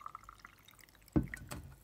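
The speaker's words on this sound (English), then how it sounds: "So you literally just put in water to cover them up" Water poured over dry anemone corms in a container to soak them, a short splashing pour that starts abruptly and trails off into drips, fairly close and quiet overall.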